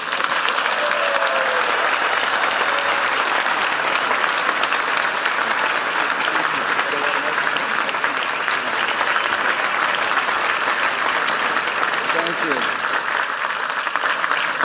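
A large audience at Harvard applauds steadily to welcome Steven Spielberg, a dense, even wash of clapping that holds loud and unbroken throughout.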